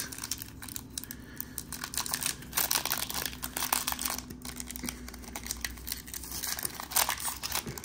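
A crinkly plastic wrapper on a baseball card pack crackles and rustles in quick, irregular bursts close to the microphone, with no talk.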